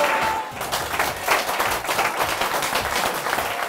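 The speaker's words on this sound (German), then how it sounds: "Normalerweise setzt der Applaus ein," An audience claps in sustained, dense applause for live music, a steady patter of many hands without a break.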